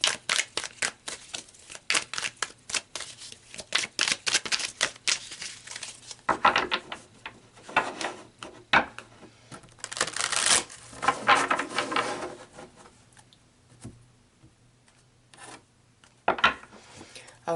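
Tarot cards are shuffled and handled close by in a long run of rapid riffling, rubbing and flicking bursts, steady at first and then sparser with brief pauses between clusters, with no voice.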